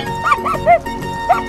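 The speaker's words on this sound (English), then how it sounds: "dog." A cartoonish dog barks a few times in a mobile animal sliding game, the short yips standing out clearly over steady game music.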